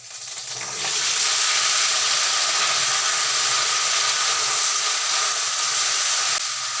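Ripe jujube plums with bay leaf, dried chillies and panch phoron hit hot oil for a sweet-sour pickle, a loud steady hiss that swells quickly and holds without talk.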